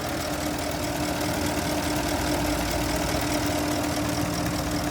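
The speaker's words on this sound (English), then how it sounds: "I'm gonna quit talking, we're gonna hear the engine." A 2009 Porsche Cayenne GTS engine idles steadily at close range, a constant low rumble with an even mechanical hum and no voices over it.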